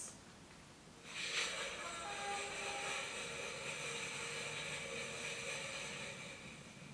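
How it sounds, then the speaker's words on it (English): A night train rumbling past outside a town, played as a sound effect from a children's touch-feely sound book: a steady, fairly loud rushing rumble with a whining tone that swells in after a second and holds to the end. "Outside the town, the night train rumbles past, taking sleepy people home to their beds."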